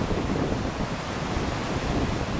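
Steady wind gusting beside a high, fast-flowing river while fly fishing, a continuous broadband rush with surging low rumble, no voices.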